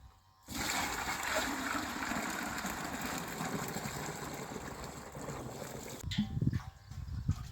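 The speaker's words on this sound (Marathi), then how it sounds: "आणि याच्यात टाकायचं मग पाणी" Water is poured into a mixture of three herbal medicines, making a loud, steady splashing pour for about five seconds that stops abruptly, followed by a few brief handling knocks.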